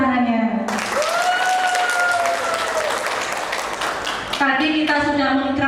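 Applause at a motivational speaking championship: a crowd claps steadily for several seconds, with a voice speaking over it at the start and end.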